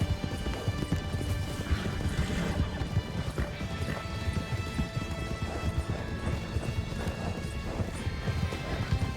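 Steady clip-clop of horse hooves at a trotting pace in a role-play video game, close and continuous, over a bed of game background music with occasional thumps.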